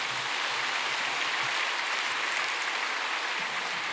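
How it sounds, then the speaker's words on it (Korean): A church congregation applauds in a large sanctuary, a dense, even wash of clapping held steady for several seconds with no voices standing out. "하나님께 영광의 박수를 돌려드리십시오"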